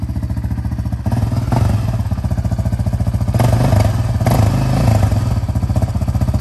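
A Yamaha Raptor 700 ATV engine revs steadily and loud up close, its rapid chugging pulse holding throughout with a few surges in throttle.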